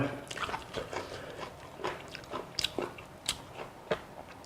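Crunchy bites and wet chewing of fresh vegetables eaten alongside sweet durian sticky rice, close to the mic, with irregular crisp crunches and moist mouth sounds spread through the stretch.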